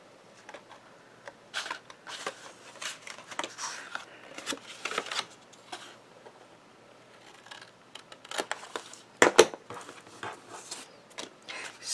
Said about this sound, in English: So I just need to trim right along this line up to where I cut.